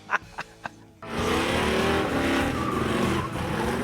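Hot-rodded 440 V8 in a Dodge Daytona roars loud and close after a few sharp knocks, with a sustained rumbling engine and tire roar continuing to the end.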